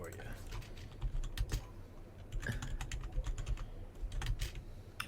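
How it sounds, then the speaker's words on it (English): Rapid typing on a computer keyboard during a tabletop roleplaying game session, irregular bursts of close clicking keys that run continuously with brief pauses over a low room hum. "Oh, he's typing it out."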